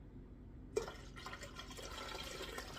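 Water poured close up into a jar for refrigerator pickling: brief near-silence, then a sudden splash and a steady, gurgling stream that keeps running to the end.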